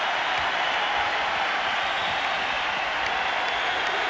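Basketball arena crowd applauding Gophers in 1990, a steady, dense wash of clapping and crowd noise that fills the whole stretch without break.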